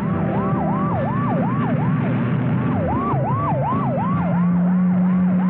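A police siren wails in a rapid, repeating rising-and-falling yelp during a chase, loud and continuous over a rumbling vehicle engine.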